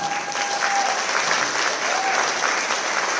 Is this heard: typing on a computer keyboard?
no